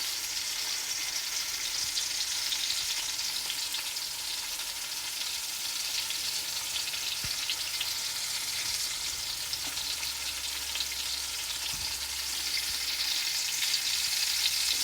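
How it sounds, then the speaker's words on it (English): Turkey drumsticks frying in oil in a pot, a loud, dense, continuous sizzle holding steady throughout, close up and free of speech. "So we're going to fry them up a few minutes"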